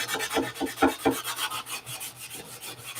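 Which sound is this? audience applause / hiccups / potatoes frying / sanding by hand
sanding by hand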